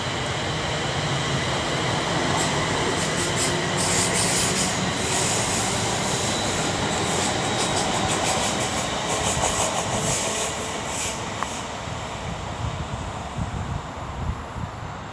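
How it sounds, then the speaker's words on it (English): An Avanti West Coast train in Eurovision livery rushes through Milton Keynes Central station on the West Coast Main Line, a loud, continuous roar with rattling wheels and squeals that lasts the whole time. "Also approaching is 39148, about to pass by for Avanti West Coast."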